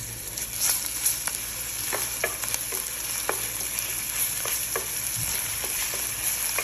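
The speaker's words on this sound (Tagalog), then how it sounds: "Ngayon, i-add ko na yung hiniwa kong ginger at garlic." Sliced ginger and garlic sautéed with softened onion in a pan: a continuous frying sizzle with scattered light scrapes and taps of a stirring utensil, close by and without talk.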